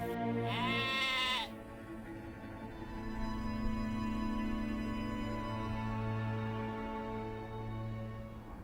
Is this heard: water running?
no